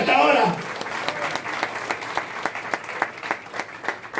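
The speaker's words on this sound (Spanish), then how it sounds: "Dele fuertes aplausos a Jesús en esta hora." Applause for Jesus during a church service, a burst of crowd clapping that starts loud and settles into scattered, uneven claps, with a preacher's voice briefly heard at the start.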